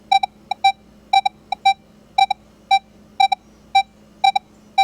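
A Minelab X-Terra Elite metal detector sounds over a buried nickel with iron discrimination off, giving a series of short, clipped electronic beeps in irregular pairs and groups, each tone slightly chopped, over a faint steady hum.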